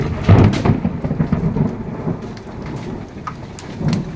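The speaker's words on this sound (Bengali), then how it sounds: "শিলও পড়তেছে বৃষ্টিও হচ্ছে" Hard rain and hail pelt a surface in dense, irregular clatters, loudest at the start and then settling into a steady downpour.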